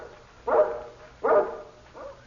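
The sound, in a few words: guard dog barking, mountain breed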